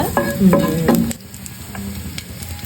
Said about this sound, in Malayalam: ഇതൊന്ന് ജസ്റ്റ് ഇങ്ങനെ ഇളക്കി കൊടുക്കാം